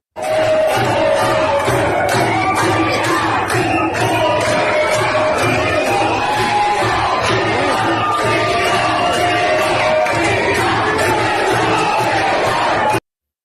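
A crowd of protesters at Australia's Parliament cheers and roars, a loud, dense mass of voices with shouts and whoops rising and falling throughout.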